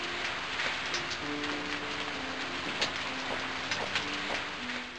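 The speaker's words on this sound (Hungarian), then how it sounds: "milyen agresszív esőhang" Steady heavy rain hisses in a video game, a dense constant wash with scattered drop ticks and faint tonal game sounds underneath, with no speech.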